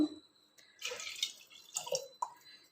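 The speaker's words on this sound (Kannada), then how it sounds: "ನೋಡಿ ಇದಕ್ಕೆ ನಾವು ಸ್ವಲ್ಪ ನೀರನ್ನು ಹಾಕೋಣ ಫಸ್ಟು" Water is poured in short splashy bursts into a bowl for masala buttermilk, close and fairly quiet, with brief gaps and a final small splash and no one talking.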